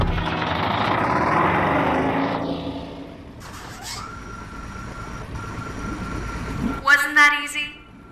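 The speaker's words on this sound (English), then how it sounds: "The engine is engaged and we are starting our set." In the video game I Expect You To Die, an engine comes to life with a loud rumbling roar that settles into a humming drone, ending in a couple of sharp mechanical bursts.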